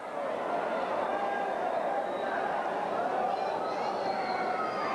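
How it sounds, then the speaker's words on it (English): Wrestling crowd at the Boutwell Auditorium in Birmingham during a 1985 Continental Wrestling show, a steady dense roar of hooting and chatter from a large indoor audience filling the hall throughout. "the Nightmares now getting quite a hoot from the crowd here at the beautiful Boutwell"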